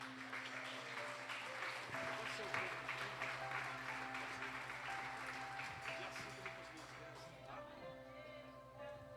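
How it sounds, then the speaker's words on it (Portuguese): A church congregation claps steadily in a large room, under a murmur of voices and a faint sustained musical tone. "igreja, aplaudindo ao Senhor."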